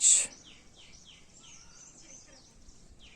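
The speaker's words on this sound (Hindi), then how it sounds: "पक्षियों के चहचहाने की आवाज" Several birds chirp and tweet in short repeated phrases at moderate distance in a calm outdoor setting, after a brief louder burst at the start, with no talking.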